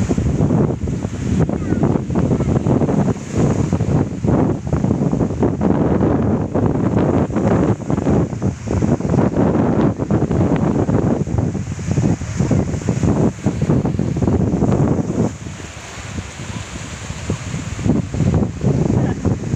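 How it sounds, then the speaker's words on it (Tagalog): Continuous roar of sea waves washing in and breaking at a beach in Naic, Cavite, mixed with steady wind buffeting the microphone; no voices. "Alon, grabe pwede mag-surfing."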